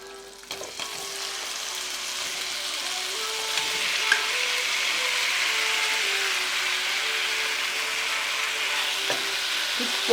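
Shrimp sautéing over high heat in a hot pan, a steady bright sizzle that swells after a few seconds and holds, with faint tonal whines and occasional clicks of utensils, no talk.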